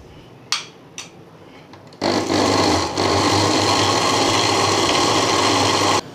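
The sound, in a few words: blender blending falsa sharbat with black salt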